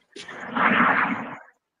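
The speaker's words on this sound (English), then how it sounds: "All I hear is that plane flying over you." A broad, rushing roar swells up and fades over under two seconds, a jet passing overhead near an airport, fairly loud and alone.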